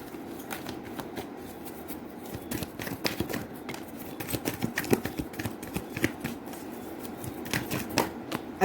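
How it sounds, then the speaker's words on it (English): Tarot oracle cards from the Wisdom of the Oracle deck are shuffled nonstop up close, making a dense, riffling patter of card flicks and slides with no talk over it. "I'll pull two cards for you from the Wisdom of the Oracle."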